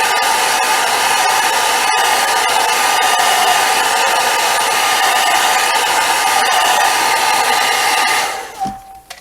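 A hair dryer blows steadily and loudly on wet watercolor paint for about eight seconds, then switches off near the end.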